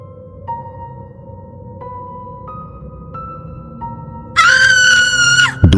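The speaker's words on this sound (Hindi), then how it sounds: "दूर से एक चीख सुनाई देती है" A woman's scream rises sharply in a Hindi horror story, shrill and sustained for about a second and a half, following a sequence of eerie stepped synthetic tones.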